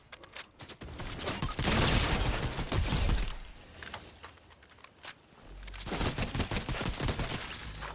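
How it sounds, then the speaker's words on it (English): Sniper rifle fire in a Fortnite squad battle royale match: loud, sharp gunshot bursts and rapid crackling volleys come in two heavy waves with a quieter mechanical stretch between, and game sounds fill the whole span. "Someone sniping, be careful"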